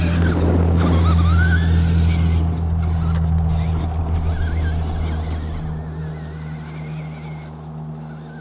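A Traxxas Stampede RC car drives and jumps outdoors, its electric motor giving a loud, steady whirring whine. Brief rising pitch changes and a few scuffs come through, and the sound eases slightly toward the end.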